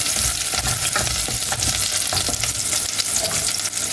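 Tomatoes sizzle in a pan of ginataang monggo, mung beans in coconut milk, as they are stirred. A loud, steady frying hiss runs throughout, with scraping stir strokes on top.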